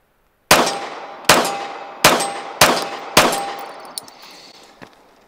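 A pistol with a ported barrel fires five sharp shots at a steady, unhurried pace, each crack ringing and decaying, followed by a couple of faint softer knocks.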